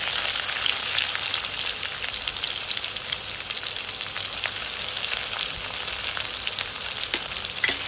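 Chopped onion frying in a pan for a radish bhaji, giving a dense, even, crackling sizzle that carries on steadily at close range with no talking over it.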